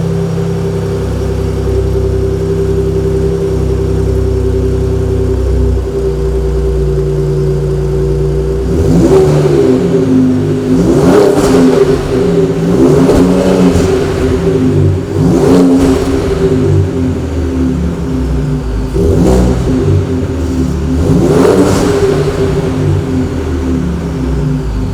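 A 2017 Ford Raptor idles with a steady low exhaust rumble, then its engine is revved several times in sharp bursts, each rising and falling back to idle, close and loud with no talking.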